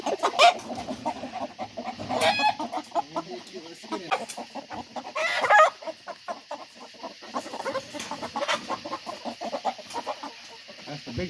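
Chickens on a farm cluck steadily at night in their roosting coop, with a rooster among them. The clucking is close, busy and continuous, broken by a few louder squawks.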